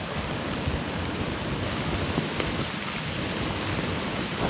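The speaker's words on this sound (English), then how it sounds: "Now it is really raining." Heavy, steady rain pours down with a dense hiss, broken by low rumbles of thunder; no voices.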